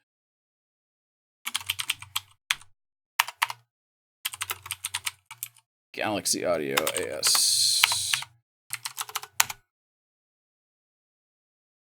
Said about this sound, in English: I have the loudest keyboard in the world too